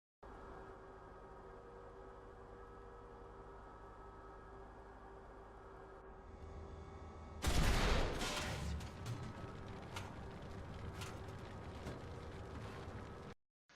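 An M1 Abrams tank gun fires at point-blank range in War Thunder, one sharp loud blast after a steady mechanical engine drone, followed by rumbling debris and clanking.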